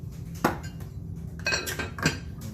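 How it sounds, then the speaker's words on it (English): A cast iron lid from a Lodge 2-quart dutch oven is set down in place, giving a couple of sharp metallic clanks and scrapes close by, with quieter gaps between them. "gotta put the lid on"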